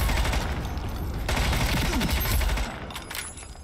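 Gunfire in the free first-person shooter Ironsight, in a dense, loud burst of rapid shots that continues for about two and a half seconds and then drops to a quieter rattle.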